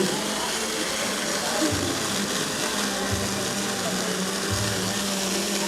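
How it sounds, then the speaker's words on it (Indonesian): A kitchen blender grinding food ingredients until smooth runs as a steady, close, droning whir for the whole stretch, with faint voices beneath it. "proses pemblenderan atau proses penghalusannya tinggal dimasukkan satu ke blender. Nah, sampai halus, kita tunggu"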